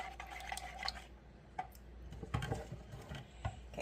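Mica being stirred into melted melt-and-pour soap, with soft taps and scrapes of a utensil against the container, quiet and intermittent with a few sharper ticks.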